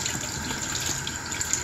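Water runs steadily from a tap to rinse out a makeup cream container, a continuous close gushing stream with no voices.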